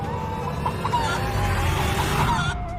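A hen clucks steadily and close up over a dense, constant background hum, with no talking.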